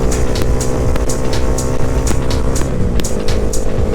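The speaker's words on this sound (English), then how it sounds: "I can gun this. This bike is very forgiving" A Honda Grom motorcycle engine revs hard and loud up close, a steady buzzing drone with repeated throttle pulses.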